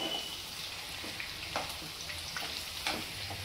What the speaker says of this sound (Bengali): আমি এই পকোড়াগুলো ভেজে নিচ্ছি গ্যাসের ফ্লেমটা আস্তে রেখে।